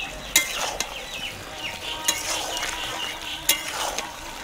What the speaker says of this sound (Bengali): এবার আমি দিয়ে দেবো রাঁধুনি বাটা, দিয়ে ভালোভাবে মিশিয়ে দেবো।